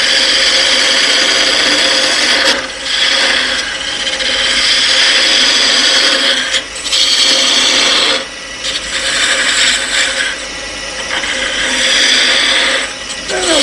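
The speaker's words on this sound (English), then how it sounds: "You have to center this on the metal lathe." A metal lathe machines a wooden bootlegger's cane, giving a steady, loud grinding whir with a rasping, scraping texture. It runs continuously with brief dips around every few seconds as the cut changes, and no one speaks.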